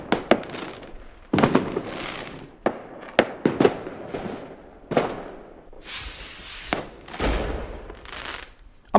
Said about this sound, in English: we can do another fireworks display